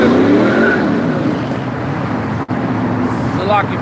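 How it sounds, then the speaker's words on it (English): Loud trucks passing on a nearby road, a heavy continuous roar of traffic with a brief dip and a tire-like whine near the end, while people talk over it. "y'all probably can't hear how loud some of these trucks are"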